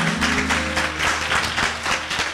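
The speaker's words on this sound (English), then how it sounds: "while you clap, let's give God great praise with your hands" A church congregation applauding during a pastoral anniversary service, dense steady hand-clapping from many people in a large room, loud and continuous with faint music underneath.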